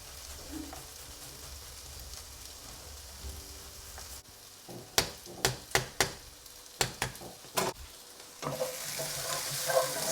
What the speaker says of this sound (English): while the onions are cooking